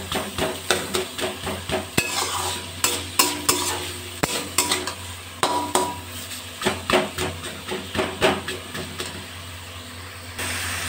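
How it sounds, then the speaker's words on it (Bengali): Thor (banana stem) frying in a pan over a lowered gas flame after the water has dried off, with a steady soft sizzle under repeated scraping and stirring strokes of a utensil against the pan, close by. "এবার আমি 4 মিনিট ধরে গ্যাসটা কমিয়ে ভালো করে ভাজা করব।"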